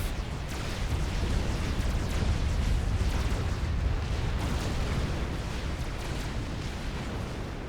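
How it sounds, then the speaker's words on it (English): A tactical missile strike in Supreme Commander: Forged Alliance, heard as a thick, rumbling wash of explosions and bursts layered over continuous battle noise, loud and sustained with scattered sharper impacts. "Tactical missile there."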